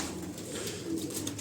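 Pigeons coo softly and repeatedly close by in a gentle, throaty rhythm, with a low background hum and no one talking.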